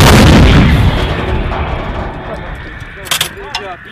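An M119A3 or M777 howitzer fires a single loud, close blast with a long rumbling decay, and brief shouted voices follow near the end.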